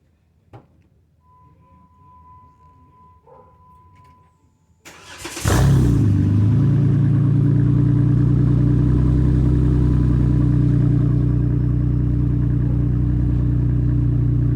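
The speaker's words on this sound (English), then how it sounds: "It's got a nice deep throaty sound at idle." Quiet, then a Jeep JK engine with a Flowmaster muffler delete cranks and starts with a roar before settling into a loud, deep, rumbling idle that holds steady.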